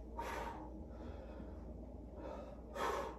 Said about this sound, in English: It's very often why I over exaggerate my breathing to like remind you.